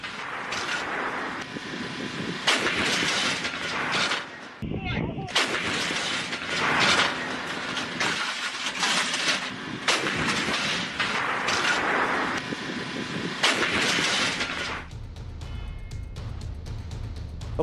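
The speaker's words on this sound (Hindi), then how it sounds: "खार्किव में 2S43 मालवा होवित्जर का एक्शन देखिए" A 2S43 Malva howitzer fires near Kharkiv, heavy booming blasts and rumbling roars recurring in waves, loud and continuous with a sharp break midway.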